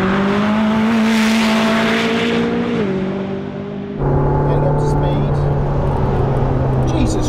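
A McLaren 675LT on track at Goodwood, its engine droning loudly from inside the car as it accelerates through the chicane, pitch dipping then stepping to a new gear and climbing again, with voices speaking over it.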